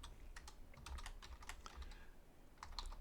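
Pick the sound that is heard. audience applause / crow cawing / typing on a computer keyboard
typing on a computer keyboard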